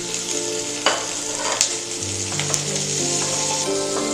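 Tomatoes frying in a pan with capsicum for spicy masala Maggi noodles, a continuous loud sizzle with a few sharp crackles and stirring clinks, no talking.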